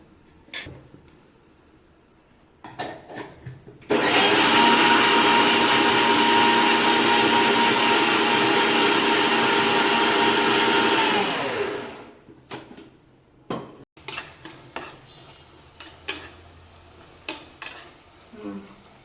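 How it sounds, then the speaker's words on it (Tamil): A kitchen mixer grinding coconut with cumin and black pepper, a loud steady motor whine running for about eight seconds before winding down, framed by small clicks and handling knocks. "ஜீரகம் கொஞ்சம் மிளகு ஜீரகம் இந்த தேங்காயோட சேர்த்து அரைச்சி ஊற்றணும்"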